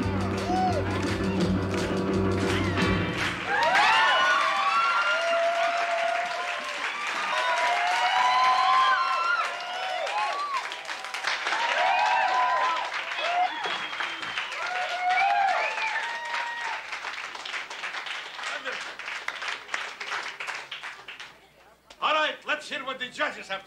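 A wrestling video game crowd cheers and applauds steadily across a long stretch, a dense roar of clapping and shouts under game music and commentary, fading briefly before a final burst.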